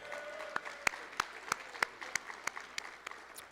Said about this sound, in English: how about a round of applause for our folks providing the music this evening?